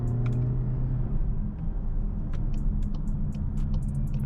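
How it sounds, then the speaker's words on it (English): A 2021 Volkswagen Arteon in sport mode downshifts through its paddle shifters, heard from inside the cabin as a steady low engine and road rumble with a brief shift in tone and faint clicks above it. "Yeah, so it actually downshifts."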